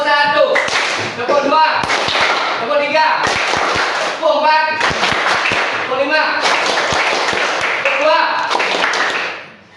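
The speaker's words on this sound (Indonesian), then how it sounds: "Oke, tepuk motivasi dulu. Tepuk biar semangat dulu." A classroom group claps in quick rhythmic bursts for a motivational clapping chant, hands striking together loudly alongside voices calling out throughout.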